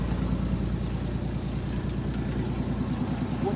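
A Diamond T truck engine idles steadily just after starting, a low, even rumble with a regular pulsing beat, close and continuous with no talk over it.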